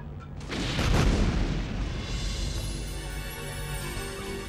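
Missile explosions in an animated Transformers cartoon battle, a deep booming blast swelling at the start and then a long rumbling decay with no voices over it.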